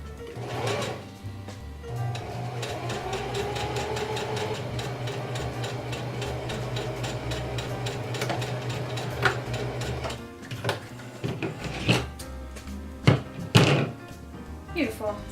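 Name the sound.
sewing machine sewing a zigzag stitch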